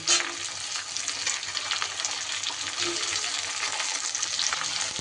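Potatoes, beans and onion stalks sizzle steadily in a hot pan while being stirred, a continuous close frying hiss with light scraping through the whole stretch.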